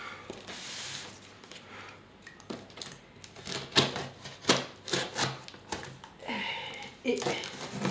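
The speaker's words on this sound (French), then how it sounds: "on va commencer par ouvrir cet énorme paquet" Someone opens an enormous package holding a Cthulhu: Death May Die board game and its Season 2 pledge box. Close, irregular bursts of rustling and tearing come from cardboard and paper, with scattered crisp rips and crinkles growing busier toward the end.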